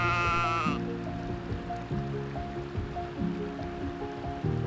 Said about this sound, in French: Les moutons parcourent les vallées.